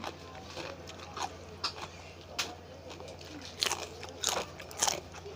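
Someone bites into a spicy cucumber som tam salad, giving several sharp, close, wet crunches at irregular intervals, with quiet chewing between them and no talk.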